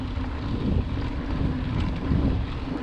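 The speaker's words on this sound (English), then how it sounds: "Thank God it's a little breezy." Steady breeze buffeting the microphone during a warm-up loop on a mountain bike trail at Markham Park, a continuous low rumbling rush with no talk.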